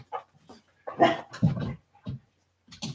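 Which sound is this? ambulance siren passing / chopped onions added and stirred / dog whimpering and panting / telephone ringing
dog whimpering and panting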